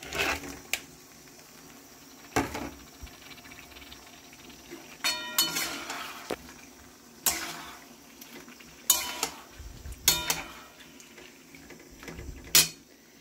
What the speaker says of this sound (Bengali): এবার এর মধ্যে আমি অ্যাড করছি ভেজে রাখা চিকেনগুলো